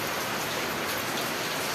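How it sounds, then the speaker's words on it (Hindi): Heavy rain falls in a dense, steady hiss of countless drops drumming on surfaces, loud and continuous throughout, with no voices. "तो हमें लग रहा है पता नहीं इतना बारिश होगा तो कैसे जा पाएंगे"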